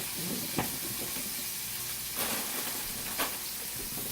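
A deep fryer hissing in a steady, faint, continuous sizzle of hot oil, broken by a few brief louder pops, with no voices.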